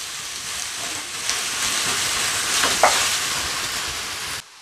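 Yogurt being stirred into a sizzling dish in a pan, giving a steady broad hiss of frying with faint stirring touches, close and even, cutting off abruptly at the end.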